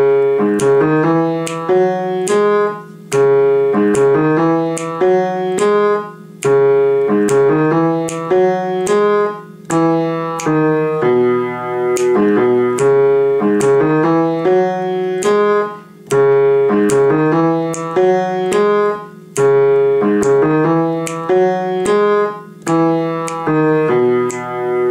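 Piano playing the looped bass line of a song, in a steady rhythmic pattern of repeated chords and low notes. It is loud and close, with no talking.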